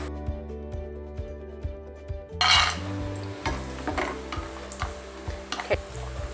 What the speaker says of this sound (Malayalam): അപ്പോൾ ആ സമയം കൊണ്ട് തന്നെ ഇതിലേക്ക് ചേർക്കാനായിട്ടുള്ള കാഷ്യൂനട്ടൊക്കെ വറുത്തെടുക്കാം